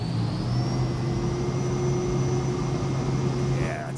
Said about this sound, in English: Stall. Stall. Hear it stalling?